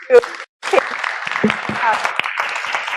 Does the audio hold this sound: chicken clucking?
no